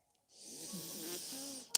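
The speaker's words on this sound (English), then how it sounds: "breathing through your nose." Slow, steady nasal breathing during a yoga session, a soft airy hiss rising and sustained for over a second, close and quiet, ending with a brief sharp click.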